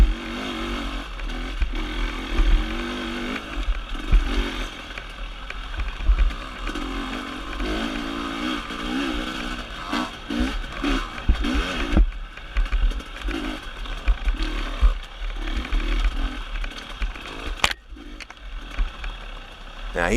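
Motorcycle engines drone and rev during a race at Walnut Grove, a steady close engine buzz rising and falling with gear changes, while a rider talks over it.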